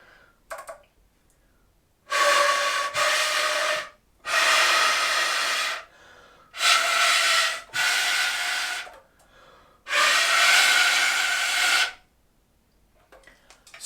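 Air pitch played on a soprano saxophone without its mouthpiece, a series of breathy, windy tones in about six sustained bursts separated by short pauses, close and loud with a faint click at the start.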